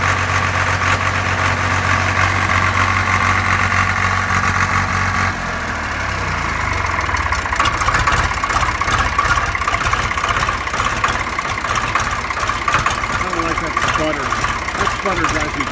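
A John Deere 300BD diesel engine with a rebuilt injection pump runs rough and sputters: a steady low rumble first, then an uneven, faltering idle with irregular misses, heard up close.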